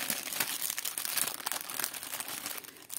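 Crinkling and crumpling of thin plastic packaging as a set of paint brushes is unwrapped, close and continuous with sharp crackles throughout.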